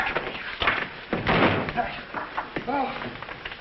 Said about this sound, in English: And where's the back door?